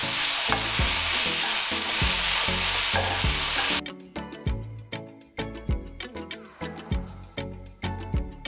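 Chopped tomatoes hitting hot oil in a pan, a loud, dense sizzle that cuts out abruptly, followed by rhythmic scraping stirs and knocks of a spoon mixing them in, close by.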